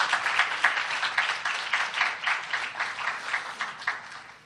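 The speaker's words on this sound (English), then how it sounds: "Give yourselves a round of applause." Audience applauding itself at a school human-values event: moderately close clapping from a modest group, steady and sustained for several seconds, with a fairly even rhythm and no talk over it.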